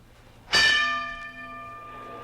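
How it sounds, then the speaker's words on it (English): A boxing ring bell rings once with a sharp clang and a long ringing decay that fades over about two seconds, alone with no voices. "There's the bell."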